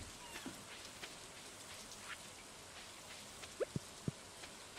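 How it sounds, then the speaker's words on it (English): Steady rain patters across a Stardew Valley farm, a soft continuous hiss with a few brighter drips and a couple of sharp little game clicks near the end. "Oh, now it's raining."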